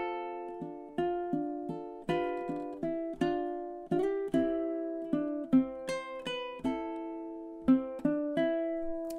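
Fingerstyle ukulele playing the Celtic tune Carrickfergus, clear plucked notes and light chords in a slow, lilting rhythm, close and alone with no voice.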